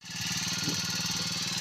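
A sprayer engine runs at a steady idle in a Punjab village, a loud, even mechanical putter with regular pulsing beats that holds constant throughout.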